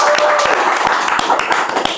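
Studio audience claps for a podcast guest, a dense, steady patter of many hands close by, with sharp individual claps standing out across the whole two seconds.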